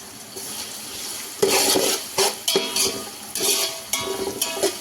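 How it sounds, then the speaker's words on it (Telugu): Thinly sliced onions fry in a pan for chicken pulao, giving a steady sizzle under repeated bursts of stirring and scraping against the pan, with a few spoon and metal clinks. "దీన్ని మంచిగా గోల్డెన్ బ్రౌన్ వచ్చే వరకు ఫ్రై చేసుకోవాలి"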